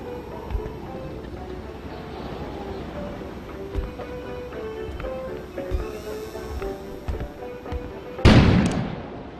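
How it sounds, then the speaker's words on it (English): A sudden loud explosion bursts outside in the video game Kona, a sharp boom with a rumbling tail that rises abruptly near the end, after a stretch of quiet ambient sound with occasional low thumps. "An explosion suddenly occurred outside."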